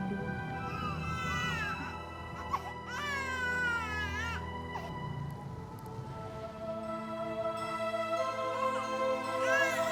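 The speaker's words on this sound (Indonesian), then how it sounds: "Terdengar seperti suara bayi." An infant cries continuously in rising and falling wails, loud and close, with a few sobbing breaks between cries.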